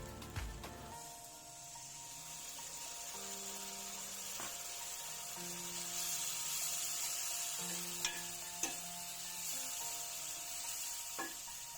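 Meat stock poured into a hot pan for mutton saag, sizzling steadily and close with a soft, continuous frying hiss and a few light clinks, no voices.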